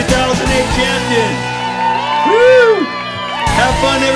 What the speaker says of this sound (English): Bone Daddies, big round of applause, 2008 champion